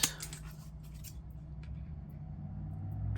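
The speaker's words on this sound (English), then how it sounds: "So cut this." Scissors cut through a paper journal card close by, with a sharp snip at the start followed by quieter cutting noises under a low steady background hum.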